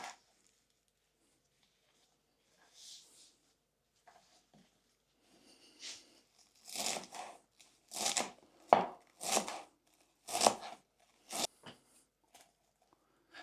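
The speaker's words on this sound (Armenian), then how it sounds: "Համեմ եւ սամիթ է անհրաժեշտ կտրատել։" A knife chops fresh coriander and dill on a board while Armenian lahmajo is prepared. A few soft taps come first, then a close, steady run of sharp, crisp chops with no talking.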